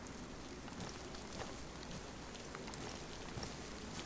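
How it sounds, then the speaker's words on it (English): Rain pours in the DayZ video game on Deer Isle, a dense, steady hiss of drops pattering on surfaces, even and continuous throughout with no voices. "now it's starting to rain."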